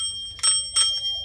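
A bell fitted to a handmade children's cart rings twice in quick succession, loud and close, each strike leaving a bright sustained ring.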